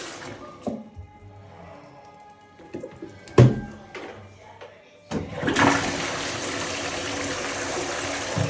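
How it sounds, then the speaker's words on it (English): Water poured into a toilet bowl during household cleaning: soft clatter and a thump early on, then a loud, steady rush of water for the final three seconds. "pour the water in the toilet"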